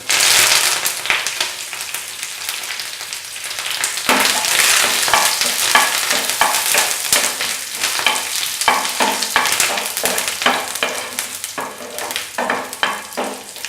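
Green chillies and curry leaves hitting hot oil for chembu stem thoran, a loud continuous sizzle and crackle with sputtering pops and stirring scrapes throughout.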